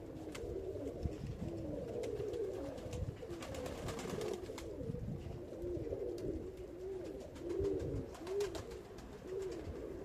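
Pigeons coo repeatedly in soft, low, throaty phrases, with occasional faint chirps and rustling in the background.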